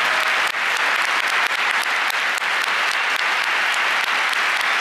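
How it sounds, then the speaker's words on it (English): A large audience bursts into sustained, dense applause, loud and even from start to finish with no voices breaking through. "a big round of applause"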